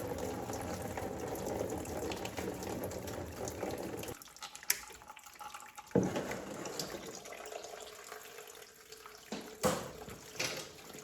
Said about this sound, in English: Now I just got to drain the coolant. I'm just going to do it from this hose right here.